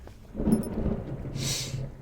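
Rain and a low, rolling rumble of thunder from the zombie survival game Zafehouse Diaries 2 sound quietly; the swell of thunder gives way to a soft hiss of rainfall.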